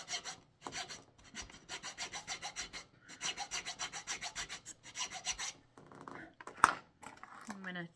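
A hand file rasps across the fipple of a wooden flute in quick, rhythmic back-and-forth strokes, close and moderately quiet, with a brief clatter near the end.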